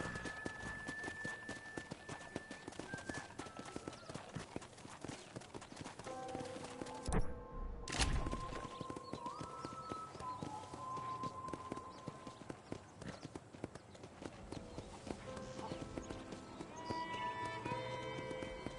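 Horse hooves clip-clop steadily in the Western video game Red Dead Redemption, a quick trotting rhythm under music and ambient game sound, with a brief loud thump midway.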